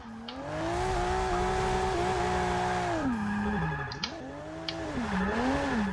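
Maserati Ghibli Cup race car in a video game, engine note rising and falling through a drift with tire squeal layered on top, loud and continuous, with brief sharp squeaks near the end.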